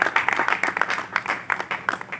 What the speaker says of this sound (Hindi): श्री वाई.के. सोलंकी सर का तालियों से स्वागत और अभिनंदन करते हैं।